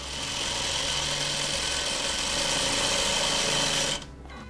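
A sewing machine hums in a fast, steady whir while stitching quilt block backgrounds, running close and continuous for about four seconds before stopping abruptly.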